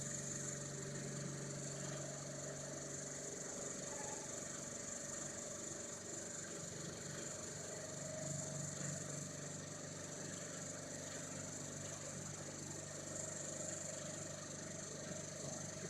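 A DC motor driving a self-excited DC generator at 1500 RPM in a lab test, humming steadily with a constant tonal whine and mechanical drone, faint and unchanging throughout.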